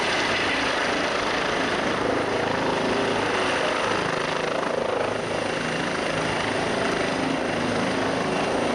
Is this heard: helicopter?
yes